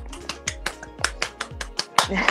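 Quick sharp claps from a small group, about a dozen uneven hits in a light, close burst that praises the contraceptive pill, with speech faintly mixed in.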